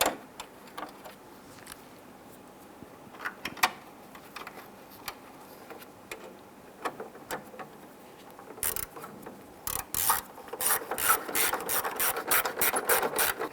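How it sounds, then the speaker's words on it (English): Two screws driven into the plastic upper turn signal light housing of a 1995-2001 Ford Explorer: quiet scattered clicks, then a denser run of ratcheting clicks near the end, close by with no talk. "you go ahead and install the 2 screws."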